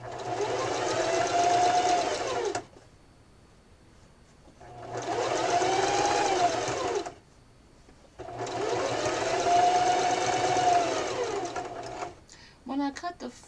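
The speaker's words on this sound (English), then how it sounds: "Using a zigzag stitch. Its stitch length is 3 and I'm using the width of 3 as well." A sewing machine running a zigzag stitch at length 3 and width 3 on fur fabric for a pillow, loud and close, in three sustained whirring bursts with pauses between.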